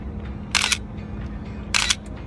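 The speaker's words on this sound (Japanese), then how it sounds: "シャッターの音がしびれてしまいますね" A professional Canon flagship DSLR with a worn shutter curtain fires twice, each release a crisp, bright mechanical clack about a second apart, close and alone over a low steady hum in a quiet room.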